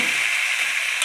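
A small splash of water meets tender young greens cooking in a hot pan. A loud, bright sizzle and hiss hold steady and close for about a second.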